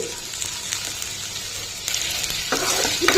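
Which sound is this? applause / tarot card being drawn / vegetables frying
vegetables frying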